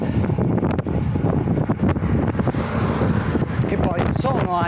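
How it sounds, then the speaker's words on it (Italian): Heavy wind buffeting a microphone on an exposed high road near Contovello during a bike ride, a constant loud rumbling roar with gusty fluctuations throughout. "Qua si comincia a sentire il vento"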